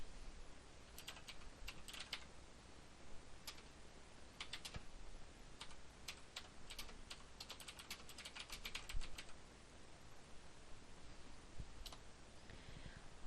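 Fingers tap quickly on a keyboard while notes are entered into a care app, producing scattered bursts of light clicks over a faint, quiet background, with no talking.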